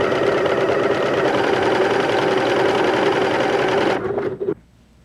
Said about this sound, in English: the seam is being sewn and finished and trimmed all in one operation